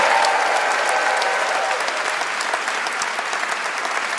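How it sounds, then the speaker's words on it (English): A live audience applauding at the end of a show honoring its guests, a dense steady patter of many hands clapping close and loud, continuing without a break and slowly easing. "could we please have one more round of applause for all our guests tonight?"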